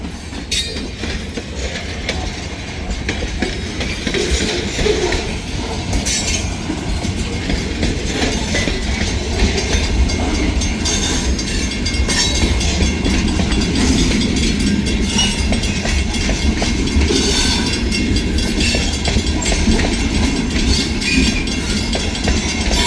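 A heavy, very long freight train pulled by three locomotives rolls past close by, its steady rumble and clickety-clack of wheels over rail joints continuing loud and unbroken, with occasional faint wheel squeal.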